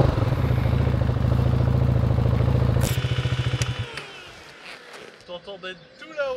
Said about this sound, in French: On va essayer vite fait le système de freinage d'urgence